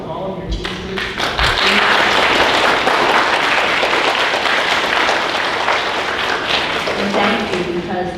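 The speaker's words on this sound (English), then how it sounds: "Can we give a big round of applause to all of your teachers?" Sustained applause from an audience at a fifth grade celebration ceremony honoring the teachers, loud and dense throughout, with a few thumps and a voice or two near the end.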